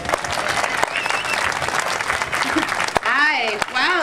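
A crowd at a rally bursts into steady applause and cheering to welcome a speaker, dense clapping throughout with a voice beginning to speak near the end.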